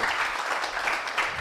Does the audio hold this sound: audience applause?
yes